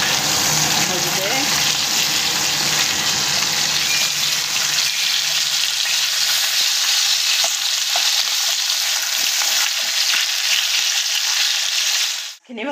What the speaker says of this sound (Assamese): শ'ল মাছ ওপৰলৈ ফুলি ফুলি আহে ভাজোতে।